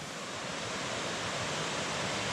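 Underground river pours out of a collapsed cave section into a very short creek, making a steady, dense rush of flowing water close by with no voices.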